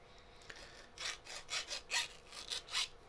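Hand file chamfering an edge, six or seven rhythmic rasping strokes close by, each a short swelling scrape, with no talk.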